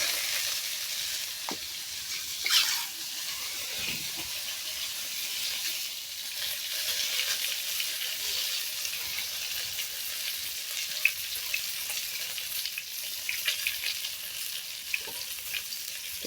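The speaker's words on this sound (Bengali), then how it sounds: "ডিমগুলো ভাজা হইতেছে।" Eggs frying in a pan in a village kitchen with salt added, giving a steady, fairly close sizzle and crackle throughout, with occasional light scrapes as the eggs are stirred, and no voices.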